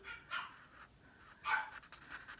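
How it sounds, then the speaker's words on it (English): Dogs playing in another room give two muffled barks, distant and faint, with soft whines and panting between them. "My dogs are playing."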